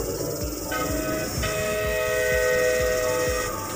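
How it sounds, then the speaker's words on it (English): A red miniature train at an Auckland attraction rolls past with a steady rhythmic clatter of wheels over rail joints, sustained whistle-like horn tones running through, loud and close with no talking. "That's a red train, guys."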